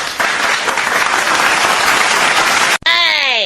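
Loud, dense classroom applause from students fills the space steadily for nearly three seconds, then cuts off abruptly into a short electronic sound effect.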